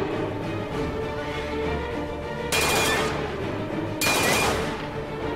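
Gunfire in a shooter video game: two sharp, loud bursts of shots stand out over a constant low in-game ambience and hum.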